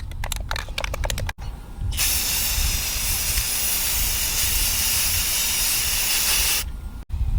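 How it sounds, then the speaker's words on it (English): Rust-Oleum gloss protective enamel sprays from an aerosol can onto metal brackets in one long, loud, steady hiss lasting about five seconds, bracketed by brief rattles and clicks of the can. "I'm just going to spray paint them with this Rust-Oleum gloss"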